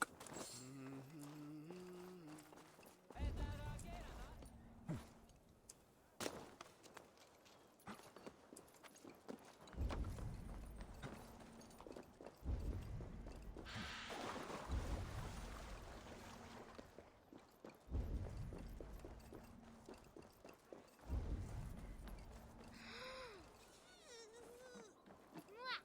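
Horse hooves in Assassin's Creed Valhalla clip-clop in irregular bursts, close and moderately loud, between spells of game ambience and someone speaking French.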